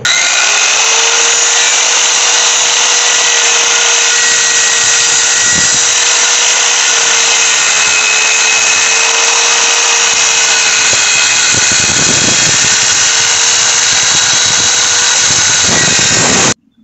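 An INGCO 1600W circular saw cuts through a 2x5 hardwood board, its loud, steady motor whine held throughout, with brief shifts in pitch as the blade bites, then cutting off abruptly at the end.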